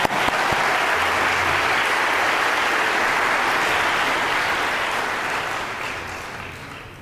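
Audience applause fills a graduation ceremony hall, a steady, dense wash of clapping that holds for several seconds and then slowly fades toward the end.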